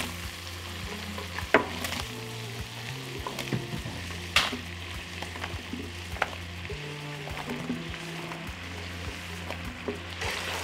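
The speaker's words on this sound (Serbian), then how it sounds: "Na zagrejano ulje i puter spuštam šampinjone." Button mushrooms sizzle in heated oil and butter in a pan, a steady crackling fry with occasional sharp clicks and stirring knocks, no talk.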